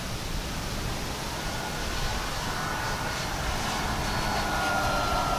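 FMS PA-18 Super Cub RC model plane flying, a steady broadband engine and propeller drone with no talk, holding level and slightly rising in loudness as it heads back toward the pilot.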